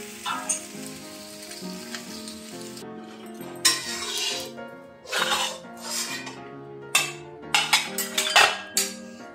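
Fried vegetables for Bengali shukto are tipped into a metal cooking pot: clanking pot and utensil knocks and clinks come in irregular bursts over a soft sizzle, loud and close.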